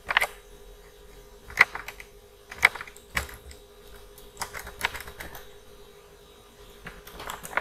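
Keys tapped on a computer keyboard, a sparse run of quiet, separate clicks with short pauses between them and no talking.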